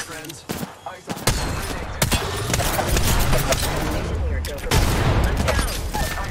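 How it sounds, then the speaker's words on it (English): Rapid bursts of gunfire and impacts in the video game Apex Legends, a few isolated shots before dense, loud sustained firing with sharp cracks and booms, a player's voice talking over it. "I'm taking fire, friends."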